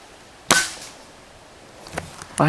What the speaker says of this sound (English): I'm going to take 1 or 2 more shots and close the group off.